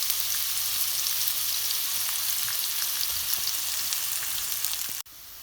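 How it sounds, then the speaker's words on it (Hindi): Onions sizzle and crackle steadily in hot oil for a vegetable curry, loud and close, before the sound cuts off abruptly near the end. "प्याज को तकरीबन 2 से 3 मिनट में फ्राई करूँगी।"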